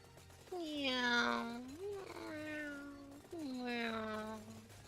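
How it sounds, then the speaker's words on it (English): Cartoonish cat meows from the video game Vampire Survivors, three drawn-out, pitch-bending mews in a row, loud and close, with no talk over them. "Sounds more cat noises."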